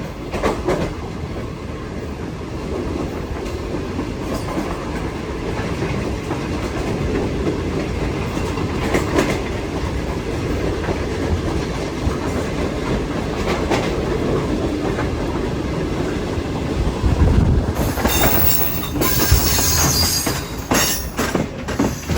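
The Shalimar Express passenger train runs from Lahore to Karachi, heard from inside the AC parlour car as it nears Faisalabad: a continuous rumble with rhythmic clickety-clack, and wheel squeal growing louder toward the end.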